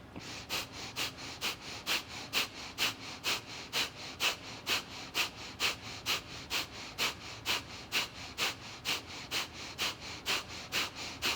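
Steady rhythmic breathing during a vinyasa flow yoga practice, with about twenty-five even, sharp nasal breaths at a brisk pace, close and fairly soft, and no talking.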